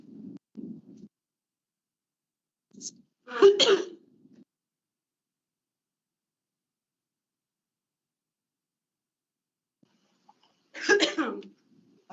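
Coughs and throat clearing come from someone at a public board meeting, in two short bursts several seconds apart, near the microphone, with low murmurs and long silences between.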